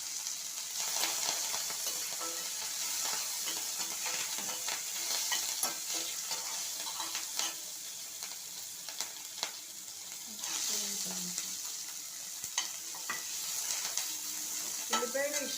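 Green chillies sizzle and spit steadily in hot oil in a pan, with scraping stirs and occasional clatters of the spoon against the metal, close up and continuous throughout without any talk.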